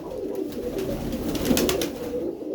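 Several pigeons of the Mykolaiv breed coo steadily in a dovecote, a close, continuous soft warbling with no talk over it.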